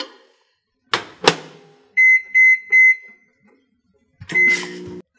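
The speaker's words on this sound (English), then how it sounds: "And then microwave the chicken for 5 minutes." A microwave oven heating chicken runs briefly, with a couple of door or button thunks, a string of three clean electronic beeps, then a low-pitched hum as it starts, all close and clear with no talking.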